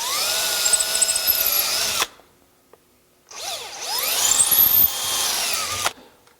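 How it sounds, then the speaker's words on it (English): A power drill bores pilot holes in fragile cut pine for spoke-type wheel weights: two whining bursts of about two seconds each, separated by a short pause, the second rising and falling in pitch as the bit cuts through. "We're just going to drill some pilot holes because this stuff is pretty fragile."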